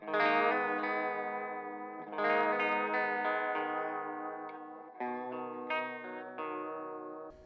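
Guitar through an Empress Reverb pedal set to a modulated reverb variation: sustained chords swell and shimmer with a wavering chorus-like wash, three strums ringing out and decaying into long reverberant tails, loud and alone.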